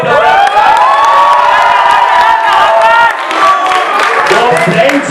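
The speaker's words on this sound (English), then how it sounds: "A huge round of applause." University roast audience cheering, whooping and applauding loudly as a performer is introduced, with excited shouts and voices layered over continuous clapping throughout.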